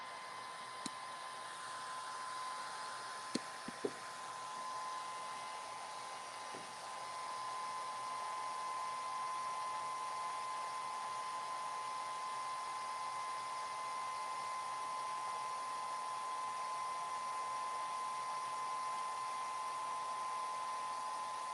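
A handheld dryer blows over a freshly painted craft piece with a steady, faint whirring hiss that runs continuously. A few light clicks sound near the start.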